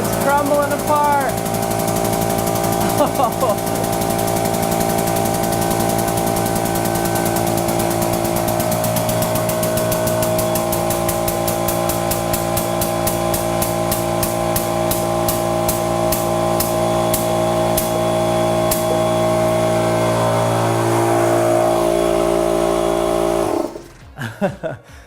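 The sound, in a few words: hydraulic press crushing an aluminium ball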